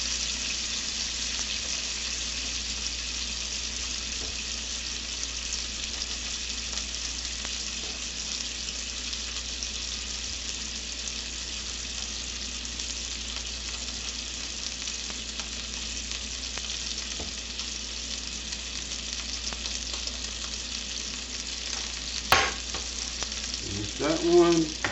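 Chopped food frying in a pan, a steady loud sizzle with no break, then a few clatters and scrapes near the end, with no one talking.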